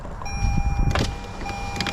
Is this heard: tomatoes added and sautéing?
no